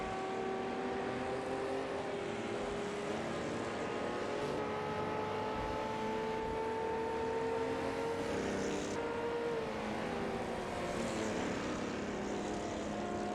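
Race cars in a racing simulator video game with AI drivers at Le Mans, a continuous engine roar with rising and falling pitch as cars pass, steady and fairly loud throughout with no talking.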